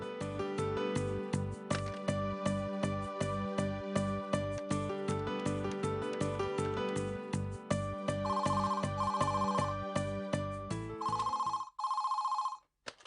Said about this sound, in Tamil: நம்ம வேணா தேன்மொழிக்கு ஃபோன் பண்ணி பார்ப்போமா?